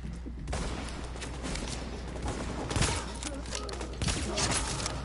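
Rapid gunfire in The Division, a dense string of shots cracking near and loud throughout, with a voice talking over the firing.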